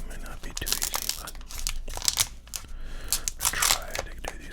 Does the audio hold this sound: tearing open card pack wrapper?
yes